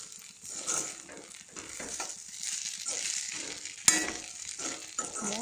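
A spatula scrapes and stirs vegetable fried rice with ginger and cardamom powder in a hot frying pan, irregular close scraping strokes over a soft sizzle, with one sharp metallic knock midway and no talking.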